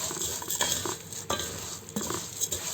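Vermicelli rice noodles being stirred as they brown in a pot, with repeated scraping spoon strokes against the metal over a light background sizzle, close and alone.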